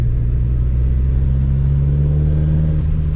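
Turbocharged Mazda MX5 accelerating with a steady, loud low exhaust drone and rising engine note, heard up close from behind with no talk.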